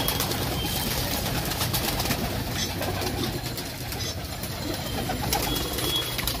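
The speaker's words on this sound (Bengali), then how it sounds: "সব পায়রাগুলো ছেড়ে দেওয়া হয়েছে এখানে" Soft, continuous cooing from a flock of pigeons freshly let out at a Nabadwip pigeon farm, a dense nearby murmur of birds with no talking.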